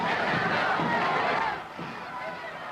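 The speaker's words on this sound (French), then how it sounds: "Des acclamations saluent ces hommes" Large crowd lining a parade route cheers and calls out as Walloon Legion soldiers march toward the Gare du Nord, a dense, steady roar of voices that drops slightly in volume partway through.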